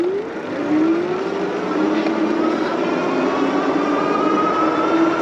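Varun X-Plorer Raptor e-bike running on throttle alone at pedal-assist level 5, a continuous motor whine rising in pitch as it accelerates, steady and close without speech.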